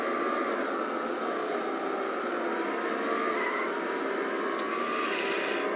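Constant high-revving engine drone of what was once the world's fastest car in a 1990s racing game, played through Compaq Armada 7400 laptop speakers, loud and steady with a slight rise near the end.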